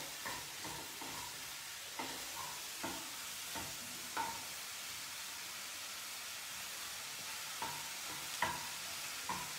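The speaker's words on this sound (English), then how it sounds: "Yeah, it's frying. I think you guys can hear the sizzle." Food sizzles and hisses steadily in a hot pan, with occasional clinks and scrapes of a utensil stirring, no voices.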